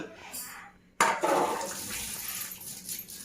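Boiled white chickpeas being strained, with cooking water pouring and draining in a steady splashing rush that starts abruptly and continues close by.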